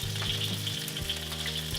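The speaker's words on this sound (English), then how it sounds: "So after like 3 minutes of frying, I have lowered the heat to medium." A catfish fillet pan-fries in a hot pan over medium heat, giving a dense, steady sizzle and crackle close up, with no voices.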